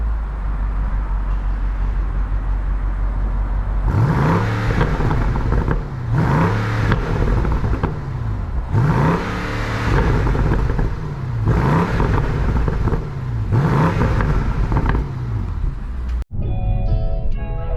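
Stock-exhaust BMW M550i engine in Sport mode revved in five sharp bursts, each a rising roar that drops back to a rumbling idle, loud and close, ending in a brief electronic chirp.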